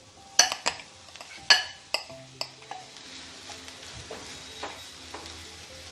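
Mashed boiled potato being stirred into samosa masala in a pan, with a few sharp clinks of a utensil against metal early on, then softer scraping and stirring with faint sizzle.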